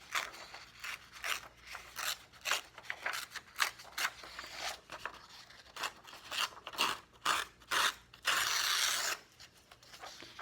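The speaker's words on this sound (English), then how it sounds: "I'm just going to kind of tear up the edges here" Paper from a book page torn along its edges in many short crisp rips and crunches, close and steady, ending in one longer tear.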